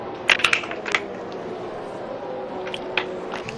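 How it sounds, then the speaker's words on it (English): A plastic water bottle crackles loudly in a few sharp bursts near the start, with one more crack later, close to the microphone over a steady low background hum. "my water bottle is decided to be very loud there"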